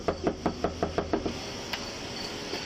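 Police pounding forcefully on an apartment door, a run of about eight heavy, evenly spaced knocks close by, then a quieter stretch with faint room sounds.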